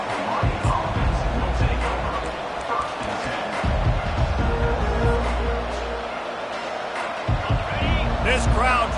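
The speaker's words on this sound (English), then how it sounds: "This crowd trying to make life miserable for this offense." A stadium crowd at a football game with Hawaii playing at Notre Dame roars steadily and swells at moments, with a commentator talking over the noise.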